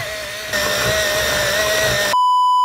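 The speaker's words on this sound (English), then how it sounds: "And a sharpener." A sharpener grinds on red markers in a steady buzzing whir for about two seconds, close and fairly loud, then stops abruptly and gives way to a sharp electronic tone.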